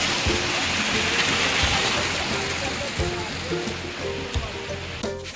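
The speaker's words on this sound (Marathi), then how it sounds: "पूर्ण हा धबधबा चालू होते" A powerful waterfall roars nonstop beside a mossy fort trail, a dense rushing wash of water filling the scene, with faint voices and scattered knocks underneath.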